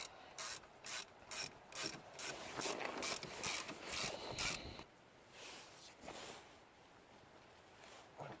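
A ratchet tightens the front brake caliper bolts on a 2001 Saturn SC1 during a brake pad replacement, with a rapid, regular clicking burst close by, then quieter scraping and handling sounds.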